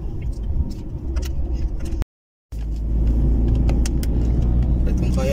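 A car drives along a road in Wales with a steady low engine rumble and road noise, loud and close, broken by a brief gap of silence before the drone resumes.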